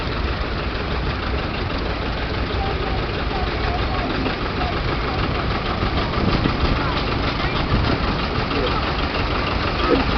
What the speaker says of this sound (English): Then we move on to the McCormick Farmall M.